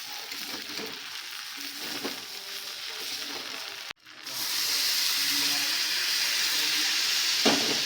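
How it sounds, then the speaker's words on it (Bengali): Water poured a little at a time into a hot pan while cooking a light healthy dish, a soft frying crackle giving way to a loud, steady steaming sizzle after a brief pause. "এই এক চামচই যথেষ্ট এবারে জল ঢেলে দেবো"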